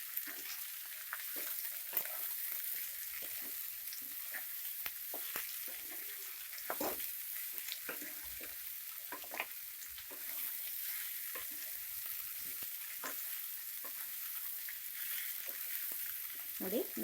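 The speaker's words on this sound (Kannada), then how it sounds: "ನೋಡಿ, ಮಿಕ್ಸ್ ಮಾಡ್ಕೊಂಡಿದ್ದೀನಿ ನಾನೀಗ." Beans stirred with salt in a frying pan give a steady, quiet sizzle broken by irregular scraping strokes of a spatula across the pan.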